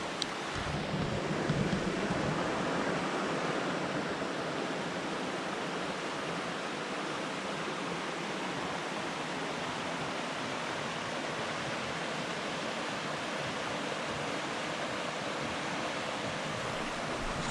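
Loud rushing water in the Dolly Sods Wilderness: a dense, steady roar of a stream or cascade heard up close, unbroken throughout, with no voices.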